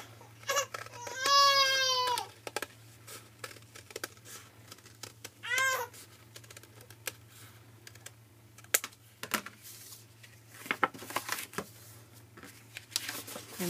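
A baby cries in two short wailing bursts nearby, amid scattered clicks and tapping sounds and a low steady hum.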